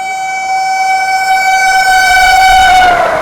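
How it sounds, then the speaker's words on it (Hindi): A white-and-blue Vande Bharat express on the Banaras–Agra Cantt run sounds a loud, sustained horn as it passes at full speed. A low rolling rumble builds beneath the horn, with no talk. "ये है भैया हमारी बनारस आगरा कैंट वंदे भारत।"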